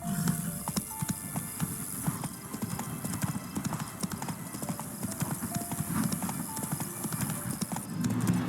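Roach the horse trotting in The Witcher 3, a steady run of hoof clip-clops close by, with ambient game sound underneath.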